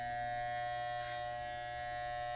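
Electric hair clipper buzzing close up during a bald fade military haircut, a steady high-pitched hum that holds constant throughout with no talk.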